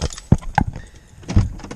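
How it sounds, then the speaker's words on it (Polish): Car keys jangle in a few quick, close metallic clinks, scattered bursts with short pauses between them. "Dobra, klucze od samochodu"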